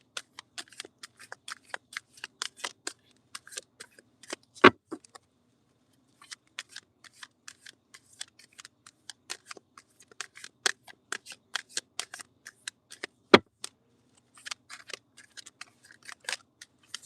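Tarot cards being shuffled by hand, soft irregular papery flicks and riffles in scattered clusters with a couple of sharper snaps and short quiet gaps, close and quiet.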